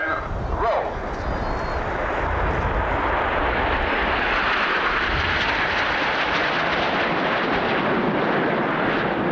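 A formation of aircraft flies overhead at the 1989 RAF Scampton airshow, a broad, sustained engine roar that swells early and then holds as a loud, continuous rumble.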